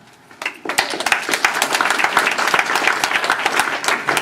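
A crowd breaks into applause, rising quickly from quiet to a dense, sustained clatter of many hands clapping nearby.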